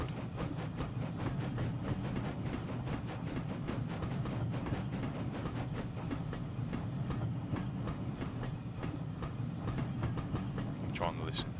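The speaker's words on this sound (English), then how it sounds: "The wheel sounds are good." Steady rolling wheel noise from model GNR six-wheel coaches on track, a continuous rumble with a regular clickety-clack beat, moderately close and unbroken throughout.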